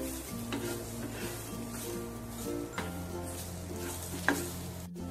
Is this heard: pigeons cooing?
no